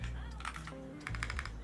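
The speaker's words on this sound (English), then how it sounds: "I'm trying to get used to this keyboard." Quick clicks of typing on a computer keyboard during a game development stream, a short close burst of keystrokes heard softly over quiet background hum.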